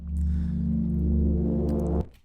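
A gritty, Ruiner-distorted layer in a drum and bass intro gives a thick, buzzing low sustained tone that holds steady for about two seconds, then cuts off abruptly.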